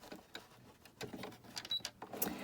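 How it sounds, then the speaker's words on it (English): A sewing machine stitches through paper book pages, quiet and nearby, giving short bursts of rapid mechanical ticking with small pauses between them. "that's why I'm going to do that with the sewing machine"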